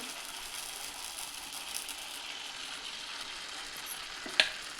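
South Indian uttapam cooking on a hot griddle, a faint continuous sizzle with one sharp clink near the end, close and quiet, no voices.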